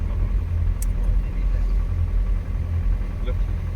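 An Ambassador car's engine idles steadily with a low, constant rumble inside the cabin as a first-time driver learns, with brief faint clicks and no revving.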